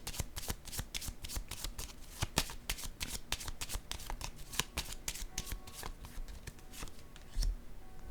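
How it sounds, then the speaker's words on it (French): Playing cards being handled and set down on a table during a card game, a quick run of crisp slaps and flicks close by with no voices. "Je vais déposer une carte au centre ici"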